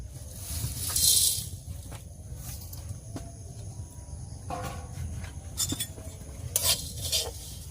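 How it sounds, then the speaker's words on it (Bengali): Coriander, fennel, black pepper and cumin dry-roasting in a pan while a spatula scrapes and stirs them, producing intermittent rasping strokes and light crackles at close range, with no talking. "এখানে আছে ধনে মৌরি গোলমরিচ আর নুনি আর জিরে একসাথে ভেজে নেবো"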